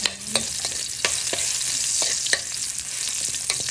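Garlic sautéing in a pan for ginataang gulay, a steady close sizzle broken by several sharp clicks and scrapes of a utensil stirring, with no voices.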